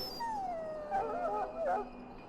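A large dog in Dragon Age: Origins whimpers and howls in a long, wavering whine with a couple of rising yelps, fairly quiet over low background hum.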